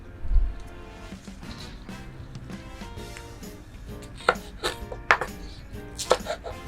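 A knife taps against a cutting board while spring onions are cut, giving a run of light, irregular chops close by that become crisper and more spaced toward the end, with kitchen background hum.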